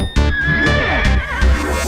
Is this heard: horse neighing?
yes